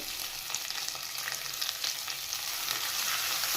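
Four onions cut into halves frying in hot oil for a chili chitranna rice dish, giving a continuous dense crackling sizzle close by, even in level throughout, with no talking.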